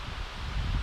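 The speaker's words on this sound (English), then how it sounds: "I do apologize for the wind here, it's pretty windy" Low rumbling wind buffeting the microphone, steady and close, swelling slightly toward the end with a faint rustle.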